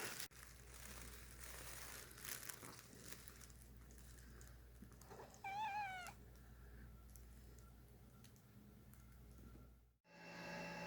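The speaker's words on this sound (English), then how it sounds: "way too many cats" A cat gives one short, rising meow midway through, faint against a steady rustling background hum. A brief quieter cat sound opens the passage.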